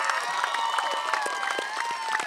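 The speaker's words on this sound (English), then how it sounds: "If you guys would give him a round of applause." A crowd at a high school graduation ceremony claps steadily, dense and moderately loud, with scattered cheers mixed in throughout.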